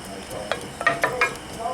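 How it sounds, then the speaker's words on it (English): Onion, carrot and meat simmer with reducing wine in a pan over high heat, a soft steady sizzle broken by a handful of sharp bubbling pops and clicks. "I'm going to kick my heat up pretty high and get this to come to a bubble here"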